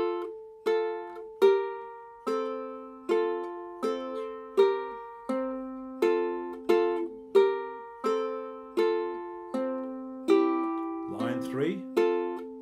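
Pinch chords of the tune Riding on a Donkey are plucked on a string instrument, roughly fourteen evenly spaced chords each ringing and decaying, played alone with a brief rustle near the end.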